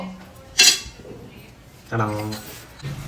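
A spoon clinks against serving dishes while biryani is served: two bright metallic clinks about a second apart, close and fairly loud, with some quiet talk between them.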